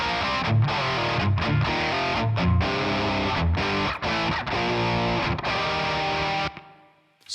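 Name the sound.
distorted electric guitar with chamber reverb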